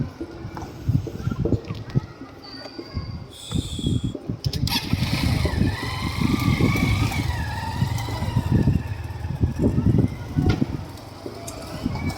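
A vehicle engine starts up with a few rough bursts, then runs and pulls away in a steady, close drone, with brief voices in the background.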